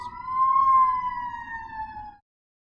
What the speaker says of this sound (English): Hold on, I got ambulances.